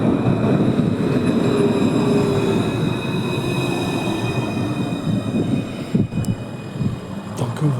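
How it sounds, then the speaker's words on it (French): A Line 1 tram rolls into its new Gare Sud terminus station with a steady loud rumble of wheels on rail and high metallic squealing, then a few sharp clanks near the end. "il y a une rame qui arrive à son nouveau terminus"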